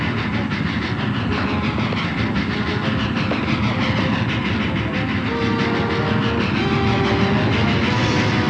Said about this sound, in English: The train's already going through the junction.